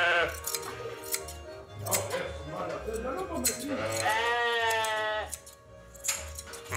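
Sheep bleat while being sheared in the Swiss Alps, a long wavering bleat standing out over steady clipping noise and background activity.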